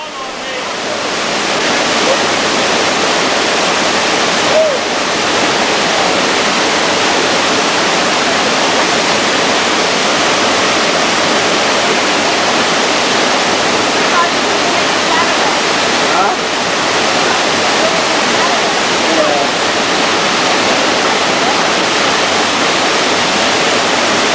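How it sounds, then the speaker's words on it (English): A steady, loud roar of falling water from a nearby waterfall, continuous broadband rushing with no change throughout. "There he goes. Up the side of the fall."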